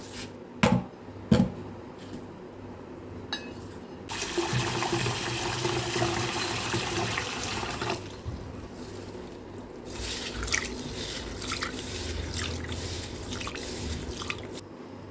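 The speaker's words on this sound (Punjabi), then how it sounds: "ਆਪਾਂ ਪਹਿਲਾਂ ਇਹਨੂੰ ਧੋਵਾਂਗੇ" Chana dal is rinsed under running water, splashing and trickling, with a few sharp knocks at the start and a stretch of louder steady running water midway.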